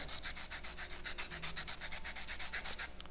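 Steady rhythmic scraping of sandpaper against a pencil tip, quick back-and-forth strokes repeating close up at an even pace.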